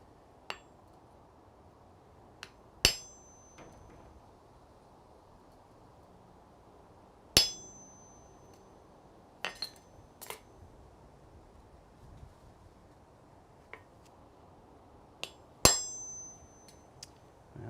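Hammer blows ring out in a smithy, sparse sharp metallic strikes on hot metal at an anvil, spaced several seconds apart with quieter taps between, over a low, quiet background.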